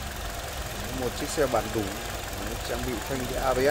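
A 2009 Kia Carnival with a 2.0 petrol engine and automatic gearbox idles smoothly at a steady, even hum throughout, while someone talks over it close by.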